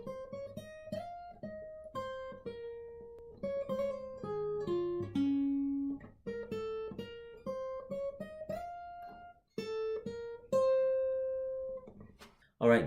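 Guitar solo from a song played with a capo, a clean melodic line of single picked notes and short slides that is moderately quiet and played alone, ending with a brief bright strum.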